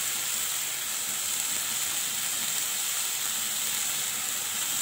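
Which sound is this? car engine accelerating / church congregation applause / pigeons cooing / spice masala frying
spice masala frying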